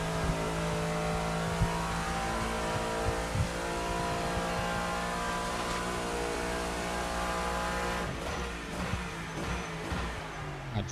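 A race car engine roars from inside the cockpit of an LMGT3 car in a racing video game, a loud sustained drone with shifting pitch and some rattling bursts near the end.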